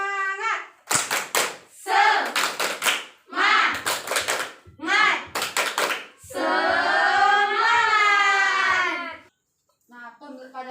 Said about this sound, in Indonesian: Kita tepuk semangat dulu yuk, biar makin semangat.